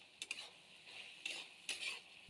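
Dheki shak greens with potatoes, salt, turmeric and spice mix being stirred in a pan, with a few soft scraping strokes of a spoon against metal over a faint kitchen background, no talking.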